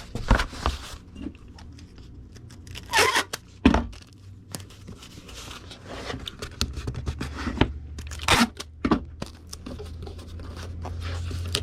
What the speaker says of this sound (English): Tape this into place.